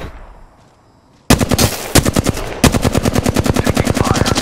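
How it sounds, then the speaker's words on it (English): Automatic weapon fire in the shooter game Apex Legends: after a quiet moment, loud rapid bursts erupt and continue as a fast, evenly spaced string of sharp shots. "Getting shot at."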